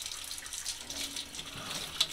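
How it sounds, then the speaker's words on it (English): Water runs steadily into a sink while a paint roller is rinsed through a roller cleaner. The flow is close and continuous, and a couple of short splashes and clatters come near the end. "So then you just rinse it through, and this throws off the paint and the water"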